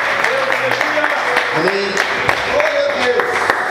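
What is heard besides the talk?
congregation applauding in church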